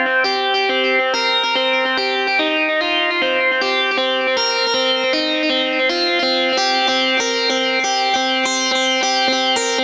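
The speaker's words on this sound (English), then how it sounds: "the SHO1A had some reverb and delay applied to it, and that was coming from the Korg NTS-1" A bright Roland SH-01A synthesizer lead plays a flowing melodic line, its notes smeared by reverb and repeating delay echoes from a Korg NTS-1, loud and continuous with no talking.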